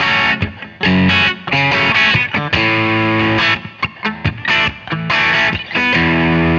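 An electric guitar plays a distorted rhythm part through a Fractal effects unit with some phaser, in chunky strummed chords and short choppy stabs, loud and up front with no voices.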